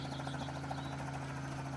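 Helicopter in the video game Mad City, a steady engine drone with a thudding rotor tone, heard alone at moderate level throughout.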